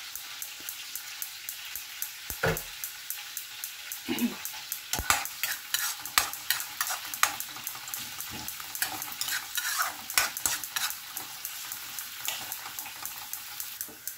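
Garlic and onion sautéing in a pan, sharp sizzling with frequent stirring scrapes and clanks of a utensil striking the pan at irregular intervals, close and loud, nobody speaking.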